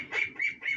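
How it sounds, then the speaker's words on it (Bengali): Ducks and chickens in an enclosure at dawn beat their wings, wanting to get out: three short, faint flurries of flapping in quick succession. "হাঁস মোরগও বের হয়ে গিয়েছে, আমাদের হাঁস মোরগগুলো বের হতে চাচ্ছে"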